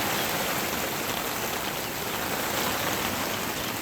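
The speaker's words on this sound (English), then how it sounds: "All of a sudden we got this nice storm that comes through." Steady rain from a sudden storm pours down on a chicken coop housing seven-week-old juvenile chicks, a dense even hiss of drops on the surface, constant and close with no voices.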